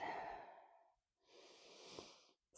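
Slow deep breaths during a yoga hip-opening session: a long airy exhale tapers into a brief pause, then a steady, close inhale follows, soft and unaccompanied by speech.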